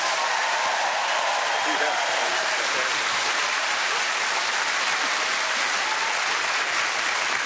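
A studio audience on a comedy quiz show gives a dense, sustained round of applause, loud and even throughout with no pauses.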